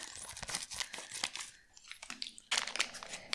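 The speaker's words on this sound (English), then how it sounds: "So the first thing we're going to do is cut open the package." A plastic package of vanilla beans is cut and torn open, giving close, crinkly tearing and crumpling bursts in several quick, uneven spurts with a short pause midway.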